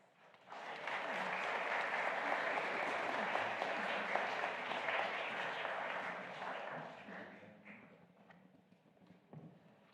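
A church audience at a Christmas chorale festival breaks into sustained applause for the Festival Chorale, dense clapping that holds steady for several seconds, then thins out and fades.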